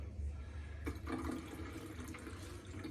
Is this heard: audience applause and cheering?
no